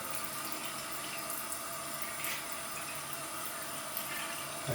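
Water runs freely down an unblocked bathroom sink drain, a quiet, steady trickling wash with faint gurgles.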